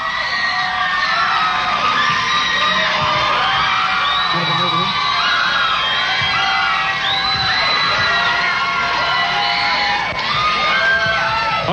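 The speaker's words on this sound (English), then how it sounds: "And totally not unexpected, the crowd goes wild." A large concert crowd cheers, whoops and yells, a loud, continuous roar with high shouts rising above it throughout.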